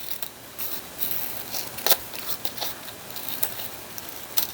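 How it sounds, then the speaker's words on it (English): Scissors snip and trim paper cutouts of butterflies from book pages for a junk journal, a series of close, crisp cuts and rustles at irregular intervals. "And maybe I'll trim these out just a smidge"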